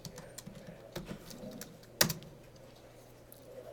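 Code being typed on a computer keyboard in a classroom: a few scattered clicks, then one sharp louder keystroke, all over a low steady hum with no talking.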